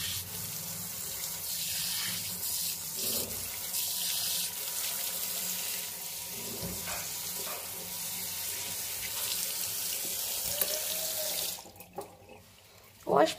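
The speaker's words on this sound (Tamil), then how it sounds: "அப்படியே வந்து இந்த டேப்புக்கு கீழே வச்சுட்டு நல்லா வந்து வாஷ் பண்ணி விட்டுடுங்க" Indoor plant leaves are rinsed under a running kitchen tap, a steady, continuous stream of water splashing throughout and ending in a couple of faint knocks.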